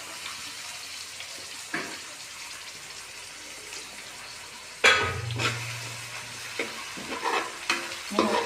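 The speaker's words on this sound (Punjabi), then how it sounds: "ਵਿੱਚ ਪਾਤਾ ਪਿਆਜ਼ ਲੂਣ ਪਾ ਦੇਵਾਂਗੇ ਤੇ ਇਹ ਜਲਦੀ ਭੁੰਨਿਆ ਜਾਏਗਾ" Onions dropping into hot oil already frying with garlic, ginger, green chilies and curry leaves for a Punjabi kadhi, a steady sizzle that swells suddenly louder partway through, with spoon stirring and scraping on top, no talking.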